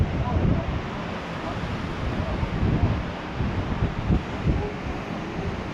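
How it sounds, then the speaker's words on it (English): A massive cruise boat's bow pushes through the sea, throwing up a broad, steady wash of churning water with rough wind noise over the microphone and a few heavier surges, loud and close throughout. "Creating such major bow wake with this thing."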